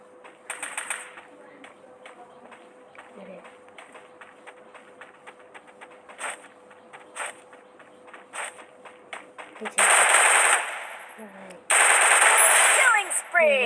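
Gunfire in a battle royale video game: scattered single shots and short bursts, some faint and distant, then two loud, dense bursts of automatic fire near the end.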